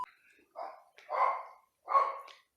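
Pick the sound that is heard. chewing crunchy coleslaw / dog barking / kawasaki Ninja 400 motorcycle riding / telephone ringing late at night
dog barking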